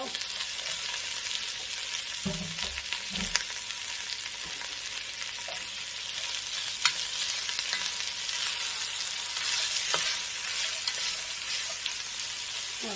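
Garlic fries in a pan for chicken noodle soup, a steady, close crackling sizzle that runs throughout with a few soft utensil knocks, and nobody speaks.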